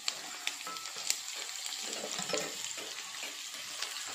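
Spiced okra pakoda pieces tipped into hot oil, with a steady close sizzle of frying punctuated by soft clinks and stirring, no voices.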